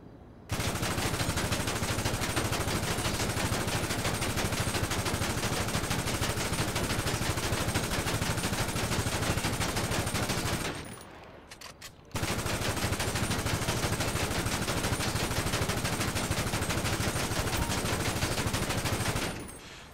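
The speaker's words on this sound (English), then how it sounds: "Now, let's see how the compact rifle handles." Compact rifle fire in GTA Online pours into a car as long unbroken automatic bursts, loud and dense, with one short pause to reload midway and no speech.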